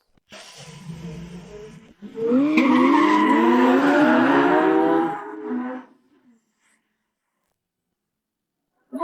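Tires squeal as a car skids during a test drive: a loud, wavering screech rises after a brief engine rush, holds for about three seconds, then cuts to near silence.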